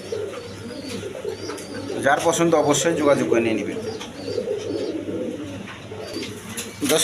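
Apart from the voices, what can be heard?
pigeons cooing, pair of young High Flying Giribaz pigeons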